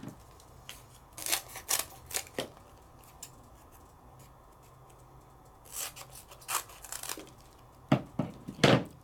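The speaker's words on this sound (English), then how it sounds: "So I'm gonna just cut myself a piece." Paper being cut for card making, likely with scissors: a few crisp snipping bursts near the start, a quiet gap, then more short cuts and rustling toward the end, close and fairly soft, with no talk.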